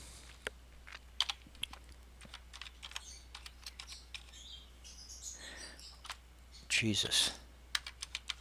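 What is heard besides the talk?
typing a password on a computer keyboard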